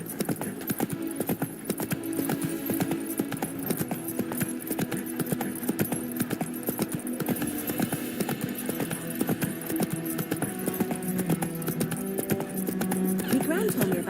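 A horse gallops in The Witcher III, its hooves clip-clopping in a steady, continuous rhythm throughout, with game background sound and a voice talking over it.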